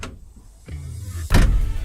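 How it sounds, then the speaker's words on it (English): Doors of a restored old Polish Star 28 truck: a soft click midway, then a loud, solid slam close by, after near silence. "Just listen to the doors close here."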